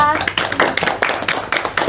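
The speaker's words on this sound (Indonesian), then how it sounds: "Tepuk tangan buat kita semuanya." Classroom students in an Indonesian high school history microteaching session clap together in brisk, uneven bursts, close and fairly loud, with children's voices mixed faintly underneath.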